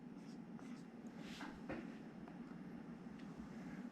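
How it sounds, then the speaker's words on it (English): A pen or marker scratches out a short word by hand during a data structures lecture, faint and steady over a low background hum. "I'll just write null here."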